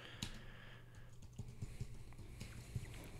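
Quick taps on a computer keyboard while a title is entered in Lightroom, a short run of light, uneven clicks over a quiet background hum.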